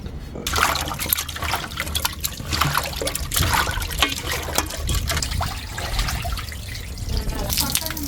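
Water splashes and trickles close by as korameenu fish pieces are rinsed, with continuous liquid sloshing and dribbling, under a voice talking throughout.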